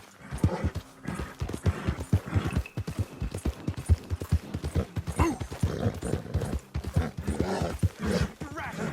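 Horse hooves clip-clopping in Red Dead Redemption 2, a steady rapid rhythm running throughout under continuous talk from several voices.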